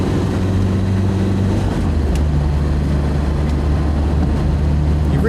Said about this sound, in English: You really can hear the valve gear chattering away.